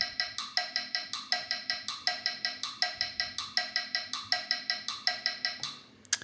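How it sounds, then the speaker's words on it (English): A metronome clicks rapidly in a steady, even pattern of sixteenth notes, bright, sharp ticks repeating about four per second, alone with no talking, then stopping. "you can hear the metronome is going crazy through there, right? It's clicking very fast"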